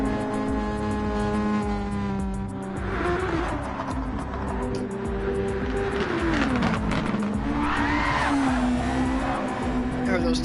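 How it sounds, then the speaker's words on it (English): A race car's tyres squeal in a Super Formula racing simulation, a sustained tonal whine that bends and slides in pitch over steady engine drone. A commentator talks over it the whole time. "Heard those tires squealing a bit"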